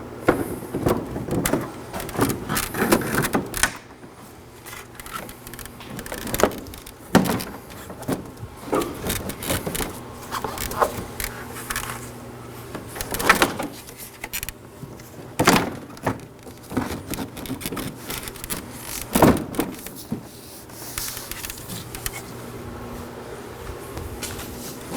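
A front bumper cover on a 2013–2019 Nissan Sentra being fitted back into place, with repeated plastic knocks, creaks and tab snaps as the corners and middle are pushed in, near and intermittent.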